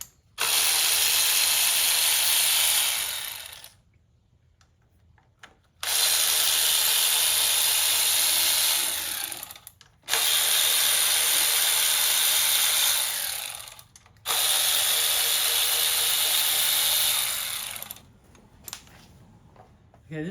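Ratchet wrench loosening parts on a 2004 Toyota RAV4 engine during a spark plug replacement, four long loud bursts of rapid buzzing clicks separated by short silent gaps.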